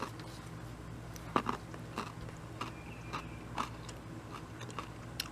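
Crisp, crunchy bites and chewing of a raw Sweet Candle carrot freshly harvested from the garden, with several sharp snaps spread out over quiet background.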